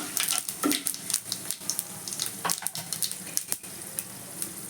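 Thinly sliced onion hitting hot oil in a pan and frying with a steady, close sizzle, broken by light stirring clatters and scrapes, with no voices over it.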